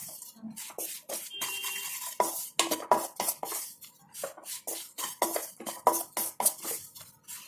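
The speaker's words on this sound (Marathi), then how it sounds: "व्यवस्थित बेसन भाजून घ्यावं।" Gram flour roasts in a pan while a spoon stirs it, producing repeated close scraping and clattering strokes against the metal in an uneven, busy rhythm.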